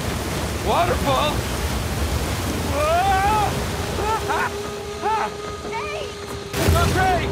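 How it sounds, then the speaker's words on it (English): Heavy rushing water roars steadily from a waterfall in the video game Uncharted 4, with shouting voices breaking through the broadband wash. "Waterfall! Waterfall!"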